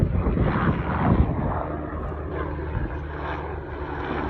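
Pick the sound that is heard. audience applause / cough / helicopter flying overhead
helicopter flying overhead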